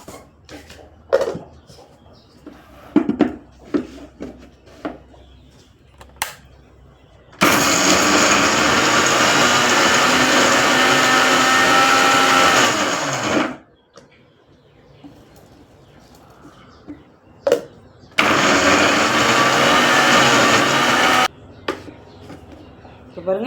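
An electric mixer grinder whirs loudly in two bursts, a long one and then a shorter one, with someone speaking and kitchen clatter in between.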